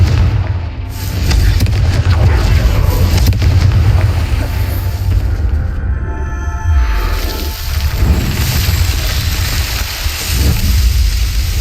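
Loud, sustained rumbling blast from the Confringo spell in Hogwarts Legacy, a dense roaring boom that fills the whole stretch with a brief dip and second surge partway through, heavy low-end rumble throughout.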